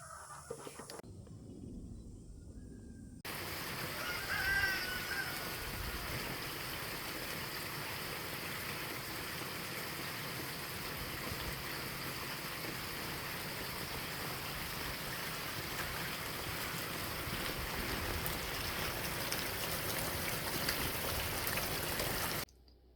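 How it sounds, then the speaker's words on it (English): Steady rain falls continuously outdoors, a dense even patter and hiss that starts abruptly after a quiet moment and holds at a constant level. "it's raining outside"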